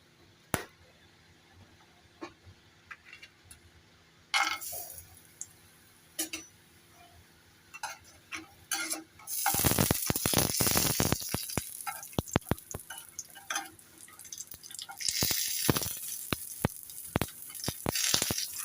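Fennel seeds hit hot oil for a Bengali shukto tempering: after scattered faint clicks, the pan bursts into a loud, crackling sizzle that fades briefly, then flares up again.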